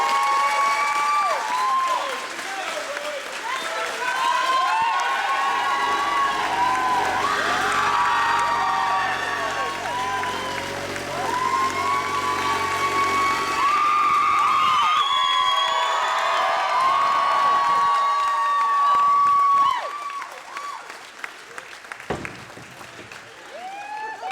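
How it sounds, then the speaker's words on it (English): Large crowd applauding and cheering loudly and continuously at a Home Depot store grand opening in Renton, with whoops and children's shouts mixed in, fading near the end. "your job while we do this is to clap as loud as you possibly can as we grand open the newest store"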